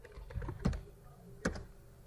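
Keys tapped on a computer keyboard while entering partition commands, two distinct clicks close by with quiet room noise between them.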